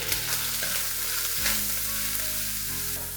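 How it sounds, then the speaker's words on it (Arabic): Onion and garlic sizzle steadily in a hot pan while being stirred, a continuous loud frying hiss with occasional scraping stirs, close up and without talk. "وهحط عليه بصل، وهحط عليه ثوم، وهقلبهم على طول."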